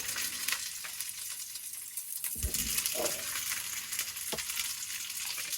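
Veal osso buco sears in a pan with a steady loud sizzle, with a few low thuds and spatters as the meat is turned, no talking.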